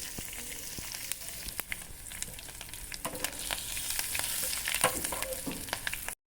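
A hot oil tempering with curry leaves, coriander and a red chilli is poured into a chutney for makhana dosa. It gives close, continuous sizzling crackle with sharp pops throughout, then stops abruptly into brief silence.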